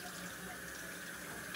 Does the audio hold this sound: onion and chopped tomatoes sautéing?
no